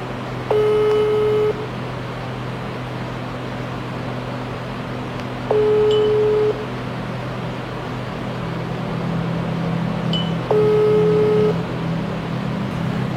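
A phone ringback tone on a call back, three evenly spaced tone bursts about five seconds apart over a steady low hum and background noise, with no talking.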